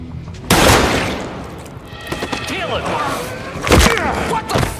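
A prison warden fires on two of his henchmen, with sharp gunshot bursts at the start and again near the end, set among movie-scene crashes and impacts.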